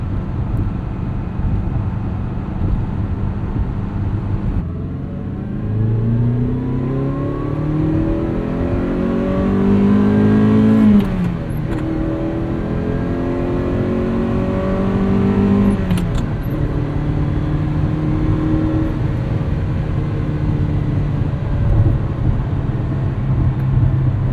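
A 1980 Ferrari 308 GTBi with a gated five-speed on Continental tires, engine droning and rising through gears with rising pitch sweeps and brief shift dips, steady tire roar underneath, heard from inside the car with no talk.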